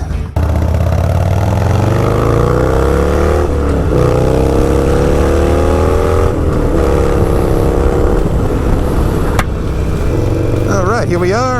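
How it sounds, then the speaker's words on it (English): A group of motorcycles, a mix of vintage, cafe racer and metric bikes including a Yamaha, start up and rev together at the beginning of a group ride, a loud, steady engine drone with rising revs and no talk. "All right, start your engines."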